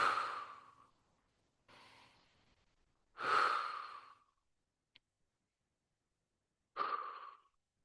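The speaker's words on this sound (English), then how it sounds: "3 breaths in through the nose, out through the mouth" Slow, deliberate breaths drawn in through the nose and pushed out through the mouth during a somatic movement class, several quiet airy inhales and exhales separated by pauses, close and soft, with no talking.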